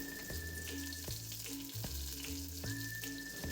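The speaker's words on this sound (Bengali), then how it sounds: "এতে আমি জিরে আর কাঁচা লঙ্কা ফোড়ন দিলাম" Cumin seeds and green chilies sizzle in hot mustard oil, a steady spitting fry over a low background hum, with a few brief knocks or clatters scattered through.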